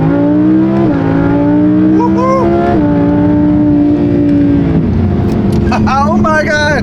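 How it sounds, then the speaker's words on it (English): A supercar rolls slowly in first gear, its engine a steady, loud low drone close by with a couple of small pitch shifts, and a voice breaks in excitedly near the end. "Do a little slow first gear roll here."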